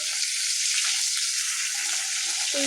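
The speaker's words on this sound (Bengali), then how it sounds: "এই দেখুন মাছটাকে ভাজা হয়ে গেছে," Pieces of hilsa fish fry in hot oil with a loud, dense hiss and sizzle that runs steadily and close up, with no one speaking.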